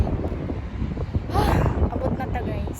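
Strong wind buffets the microphone on a seashore, a steady low rumble of gusts that swells midway, with voices talking faintly underneath.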